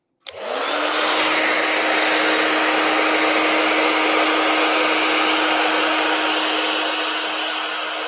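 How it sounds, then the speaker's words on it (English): A blow dryer switches on and runs steadily and loudly, a broad whooshing roar with a sustained motor hum, used while painting terracotta planters. "Oh, that blow dryer is loud."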